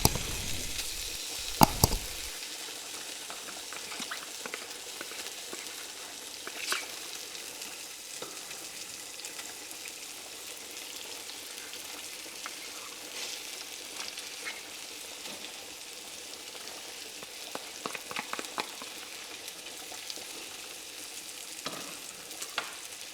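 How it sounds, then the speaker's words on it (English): Garlic fries in a pan for a creamy pink pasta sauce with bacon, giving a steady, close crackling sizzle throughout, with occasional stirring scrapes and a brief knock near the start. "It's been frying now for a couple of minutes. You can see the garlic is going that lovely golden brown colour."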